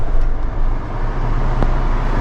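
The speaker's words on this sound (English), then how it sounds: "Now I just need to drive into the ferry." A car drives slowly toward a small six-car ferry in Maragogi, Brazil, its engine a steady low rumble with road noise, close and continuous, and no voices.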